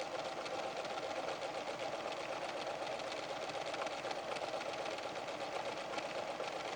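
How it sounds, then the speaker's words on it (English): A PFAFF creative 7550 sewing machine sews a line of cross stitches, a steady, close mechanical whir with a fast, even needle rhythm running without pause. "As you sew, watch how the cross stitches align with the red marks on the foot."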